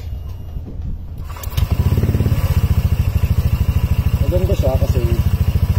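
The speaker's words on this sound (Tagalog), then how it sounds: "Ito yung motor ko, mga boss. Testing natin" A motorcycle with a homemade custom exhaust pipe starts and settles into a loud, throbbing idle with a deep, pulsing exhaust note close by, while someone talks briefly over it.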